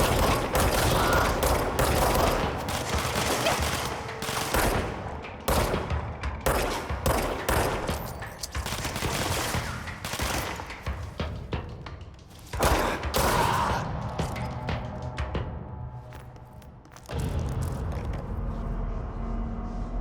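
Rapid machine-gun bursts and repeated gunshots from the video game Control fire almost continuously at close range, with brief lulls before heavy volleys resume.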